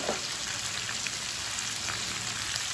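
Chicken pieces frying in hot oil give off a steady, even sizzle, like fine rain. The crackle holds at a moderate level throughout, with no voices.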